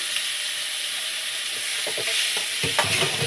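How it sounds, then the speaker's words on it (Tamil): Onions and tomatoes sauté together in a pan for a tomato chutney, giving a steady sizzling hiss. A few scraping stirs come in toward the end, with no voices. "வெங்காயம் சும்மா ஓரளவு கிளறி விட்டதுமே நம்ம தக்காளியை சேர்த்து விட்டுறணும்."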